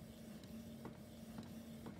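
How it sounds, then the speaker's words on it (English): Home inkjet printer running a sheet of sticker paper, giving a steady mechanical whir with soft periodic clicks of the print head passing roughly every half second, close by and alone. "I am printing a digital paper I created myself in Procreate"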